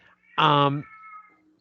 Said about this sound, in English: I've got a whiny cat, so I'll be right back